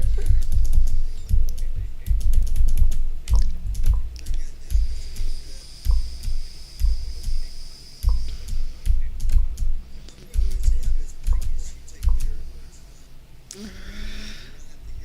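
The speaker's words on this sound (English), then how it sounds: "you're not having to hear me smack the keyboard" Computer keyboard typing at a flight simulator desk during a 777F flight from Alaska to Heathrow, bursts of loud, close keystrokes and clacks with pauses, some breathing in between.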